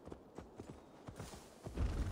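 Horse hooves clip-clopping in a steady rhythm in the video game Assassin's Creed Valhalla, close and clear with no talk.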